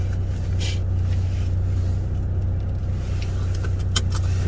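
A parked car's engine idles steadily with a constant low rumble close by, with a few faint clicks and jangles on top and no talking.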